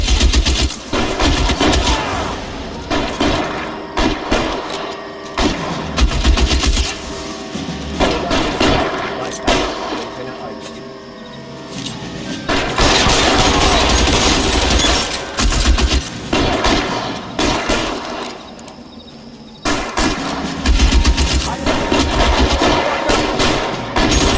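Sustained gunfire in the video game L.A. Noire during an arson case shootout: loud, dense automatic bursts mixed with single shots, near and continuous for the whole stretch, pausing only briefly before starting again, with shouting now and then.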